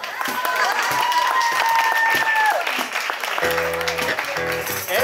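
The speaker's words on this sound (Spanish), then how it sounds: "¡Un fuerte aplauso!" A live audience in a small tavern breaks into loud, sustained clapping and cheering, with whistling tones rising above it before the crowd noise gives way to a rhythmic instrumental passage.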